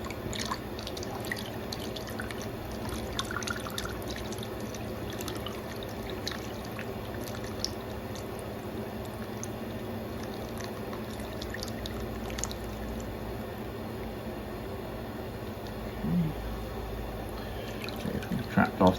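Melted beeswax poured off from a melter into a container during wax harvesting, a steady soft liquid trickle with light drips and faint clatter, close and quiet, with no talk over it.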